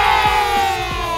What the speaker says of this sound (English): You should edit in like a hell big cheer then, eh?